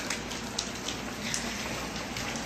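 Heavy rain pouring down outside, a dense, even hiss of falling water with faint droplet ticks, steady and fairly quiet throughout.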